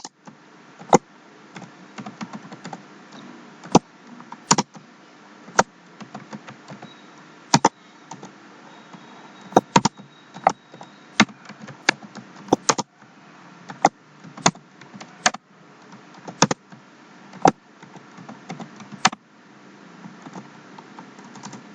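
Computer keyboard keys clacking while a JavaScript program is typed into an HTML document, sparse clicks and short bursts spread unevenly through a quiet room, close and moderately loud with no talking.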